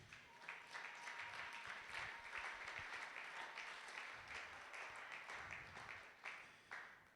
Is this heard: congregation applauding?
yes